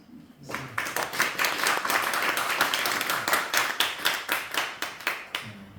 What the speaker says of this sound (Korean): 다시 한번 감사의 박수.